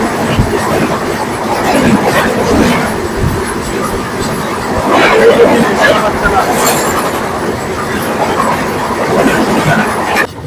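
Tirumala Express train running, a loud continuous rattle of wheels on track with rhythmic clickety-clack and rumbling carriages, up close throughout with faint chatter mixed in.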